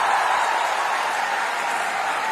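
Sustained applause from a Hindi-speaking audience at a comedy or poetry stage show, a steady dense wash of clapping at moderate volume with no voices on top, holding evenly from start to end.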